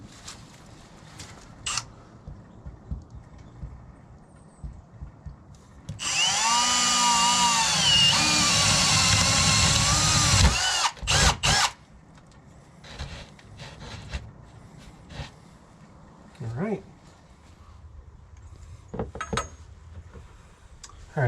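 A power drill bores through a house wall into the basement while conduit is run for a hot tub subpanel. It makes one loud, sustained whining burst of about four seconds, then a few short bursts, with quiet handling noise around them.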